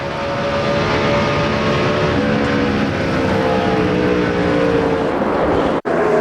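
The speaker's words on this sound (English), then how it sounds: "Already starting to see some of these cars move up the racetrack" NASCAR Busch Series race cars, including Pontiacs, roar around the track at the start of the Goody's Headache Powder 200, a loud, dense continuous engine drone with no speech over it.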